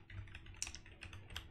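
Rapid, uneven keystrokes on a computer keyboard while writing Rust code, a steady close patter of light clicks with a few louder taps.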